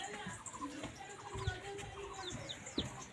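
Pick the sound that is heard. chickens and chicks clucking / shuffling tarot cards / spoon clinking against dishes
chickens and chicks clucking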